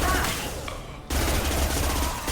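Submachine gun fire in the video game Mass Effect 2, a loud dense burst of rapid shots that drops out briefly and then resumes with equal intensity.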